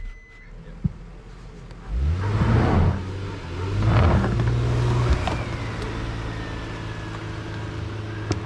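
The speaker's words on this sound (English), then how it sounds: "went to help the car out of the sand" A car stuck in sand near the Grand Canyon revs in two loud surges, its engine rising and falling in pitch, then settles into a lower steady drone as a tow vehicle pulls it free.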